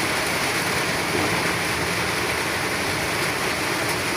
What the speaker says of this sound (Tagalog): kasi umuulan, ang lakas ng ulan